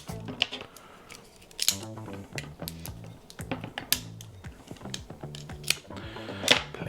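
A knife slicing and tearing the plastic seal off a whiskey bottle, a run of sharp crinkly clicks and scratchy snaps up close, irregular and choppy with brief pauses between cuts.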